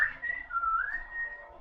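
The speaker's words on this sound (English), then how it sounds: "And he whistles." A single person whistles one sustained, wavering tone lasting under two seconds, dipping and rising in pitch, clear and close with faint room noise beneath.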